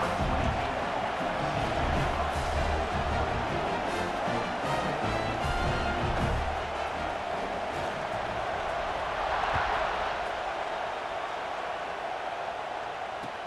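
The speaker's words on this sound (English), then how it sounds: "They're set to kick it off, and this crowd now ready to get behind them." A dense stadium crowd roars continuously at kickoff in the video game College Football 26, a loud, steady wash of cheering with a swell near the middle, with no talk over it.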